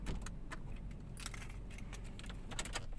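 Toyota Vios car keys jangle close by in a continuous cluster of light metallic clinks over a low outdoor hum, with no talking.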